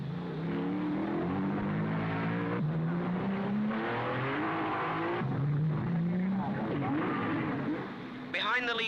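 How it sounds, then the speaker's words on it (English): 1955 Monaco Grand Prix Formula 1 cars, including a Lancia, racing past with rising and falling engine whines and revs, heard under an old broadcast-style narration. "And again, Castellotti has passed Moss into second place."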